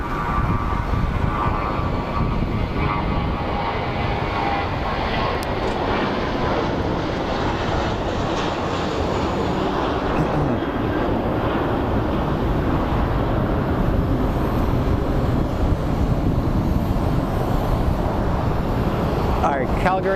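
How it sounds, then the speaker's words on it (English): WestJet jet bound for Calgary rolling down the runway at a desert airport, a continuous loud engine roar building gradually and staying steady throughout, with faint voices at times. "Calgary flight. A is on deck and rolling."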